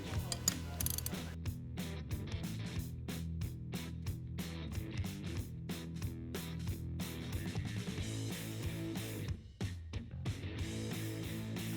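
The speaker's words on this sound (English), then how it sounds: "To make my life easier, I'm going to use a ratcheting box wrench." A ratcheting box wrench turns the nut on a strut shaft while a VanUp x King Shocks suspension kit is installed, giving dense, rapid metallic clicking that runs nearly nonstop and close up, with brief pauses and no talk.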